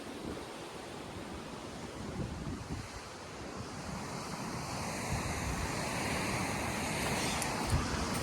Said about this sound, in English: this waterfall here is pretty amazing